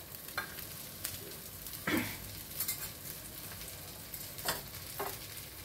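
Pineapple pieces fry lightly with chili powder in a little oil in a pan, sizzling softly at close range while a spatula stirs and scrapes in occasional strokes.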